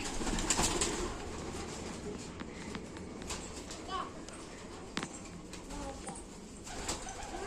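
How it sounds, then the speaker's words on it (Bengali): Soft pigeon coos at a rooftop pigeon house, over a busy outdoor murmur, with children's voices and chatter in the background. "এই যে আমাদের পায়রার ঘর"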